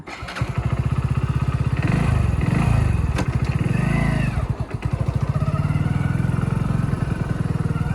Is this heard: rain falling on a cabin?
no